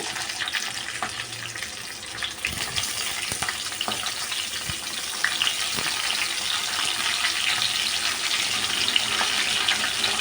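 Green chillies and tomatoes fry in a pan for Andhra-style tamarind pickle, a steady bright sizzle running throughout with a few soft stirring clinks, close and continuous, no talk.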